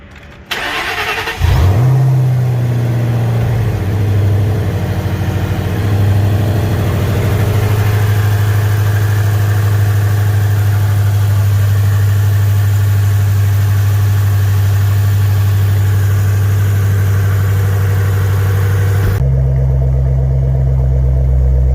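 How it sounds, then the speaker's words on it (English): A 2009 Shelby GT500 with a 2.3L Trinity TVS supercharger cranks and fires up, then settles into a loud, steady idle that holds for about twenty seconds and shifts near the end. "getting ready to upload the tune and start the car and hopefully see if it runs or not"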